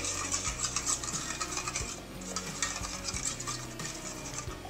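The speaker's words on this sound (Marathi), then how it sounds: "आता याला चांगलं फेटून घेऊ।" Eggs with salt and pepper are whisked briskly in a bowl, a steady close scraping and tapping of utensil against the bowl with no talk.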